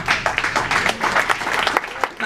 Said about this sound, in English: Not sure we should be applauding for that